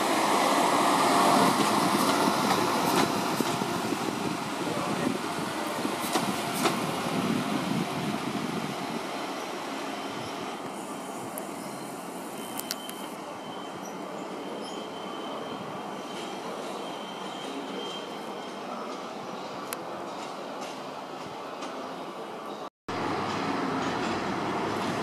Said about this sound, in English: Departing platform 2 again, the Manchester Piccadilly train heading for Swansea direction